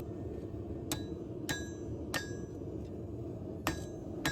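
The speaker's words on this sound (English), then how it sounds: "This hammer that I got from Jasper Her Ironworks works amazing." A hammer strikes hot steel being forged into a custom knife, five sharp ringing blows spaced irregularly over steady low background noise, heard alone.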